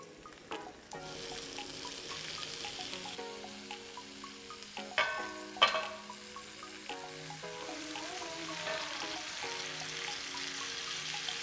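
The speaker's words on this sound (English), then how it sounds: "I've been heating up my cast iron pan, and I'm gonna put some broccoli on the bottom first." Broccoli hits a hot cast iron pan with a soft, steady sizzle, broken by a few clinks and scraping sounds of handling in a quiet kitchen.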